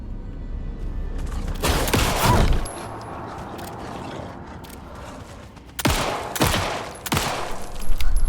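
Bursts of gunfire in a horror survival video game, two loud clusters of rapid shots separated by quieter stretches of ambient game noise, with no speech.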